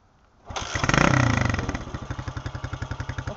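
A dirt bike based on the Honda CRF fires up: a sharp start, a brief rising rev, then a steady pulsing idle with a rapid, even thump, loud and close.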